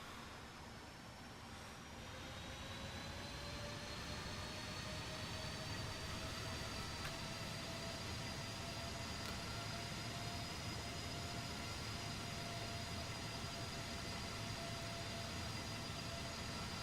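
Boeing 777 jet engines spooling up for takeoff in the X-Plane 11 flight simulator, a steady loud turbine roar with rising whines that climb and hold over the whole stretch, no talking.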